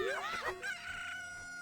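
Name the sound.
cucco chickens clucking in Zelda Ocarina of Time video game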